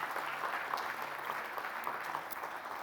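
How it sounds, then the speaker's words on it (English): An audience at a food and feed safety conference gives speakers a warm round of applause, steady clapping heard from a distance, fairly faint and continuous. "you may give them a warm round of applause"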